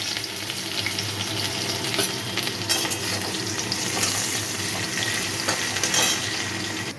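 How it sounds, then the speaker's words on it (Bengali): Capsicum frying in oil in a wok, a loud, dense, close sizzle with occasional clinks of utensils, no talking. "ক্যাপসিকামটা দিয়ে দিলাম তেলের মধ্যে।"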